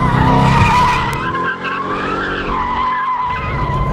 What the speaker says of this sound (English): the hooligan in me wants to focus on tire-smoking debauchery